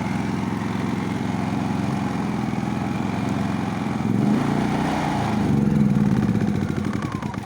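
A Fogo F4001iSE inverter generator runs quietly in eco mode, giving a steady low engine hum with a slight rise and change in pitch partway through.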